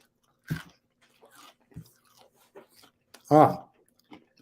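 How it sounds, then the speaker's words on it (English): A person chews food close to the microphone with a few wet, crunchy bites spaced irregularly over several seconds, one louder than the rest. "Chewing, please wait."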